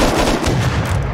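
Rapid, loud bursts of gunfire from the video game Unturned, a dense cluster of sharp shots packed into about a second with no voices.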